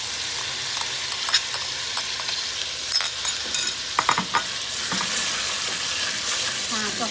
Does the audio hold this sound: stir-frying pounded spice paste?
yes